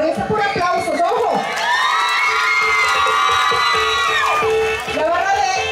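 A crowd at a rural vereda pageant cheers, whoops and shouts loudly for a supporters' group, with children's high voices prominent in a sustained roar lasting several seconds.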